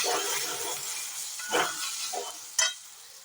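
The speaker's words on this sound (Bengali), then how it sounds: "ভালো করে এটা মিক্স আপ করে নেবো।" A spoon stirs sugar into a matar kachori filling in a pan over a soft continuous hiss, with two or three distinct scraping strokes standing out near the end.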